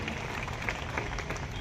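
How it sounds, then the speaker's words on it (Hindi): A crowd at an outdoor tribal pride day program claps faintly in the distance, a soft scattered patter of applause under a low murmur of voices and background hum. "ऐसे आदिवासियों के लिए जरा तालियां"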